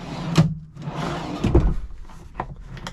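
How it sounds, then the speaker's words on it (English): Pull-out drawers in a Lance double slide-out truck camper being opened and shut, giving a few close wooden thumps and sliding rumbles with a bit of room noise between them. "You have these pull-out drawers."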